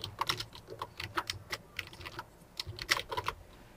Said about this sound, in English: We want to type in Grace Lee